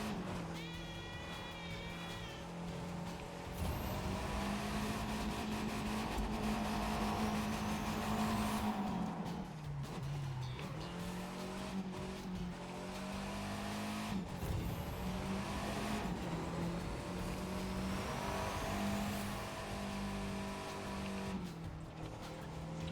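Car engine from the open-world racing game The Crew 2, a steady loud drone with rising and falling revs across several gear shifts, with tire noise and no speech over it.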